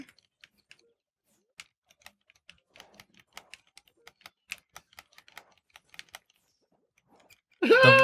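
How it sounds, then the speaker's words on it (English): An aging Xbox 360 controller clicks in sparse, rapid taps during gameplay, small sharp button presses close by, ending with a sudden louder burst of sound. "The rapid clicking you're hearing will be the aging 360 control"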